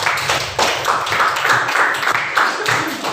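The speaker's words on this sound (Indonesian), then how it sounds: "semuanya tepuk tangan dulu" Classroom of high school students clapping together at the end of a lesson, a dense, steady patter lasting about three seconds with a voice or two mixed in.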